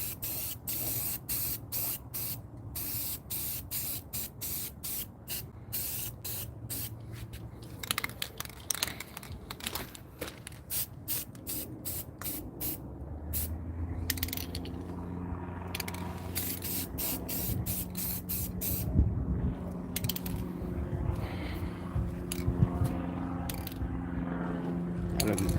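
A spray can hisses in repeated short bursts while painting a 5.3 LS engine block, with mechanical clicks between passes and a rougher, denser stretch of spraying later on.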